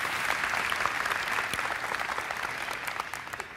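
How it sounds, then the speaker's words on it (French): An audience claps steadily, a sustained round of applause that gradually thins toward the end. "On peut l'applaudir."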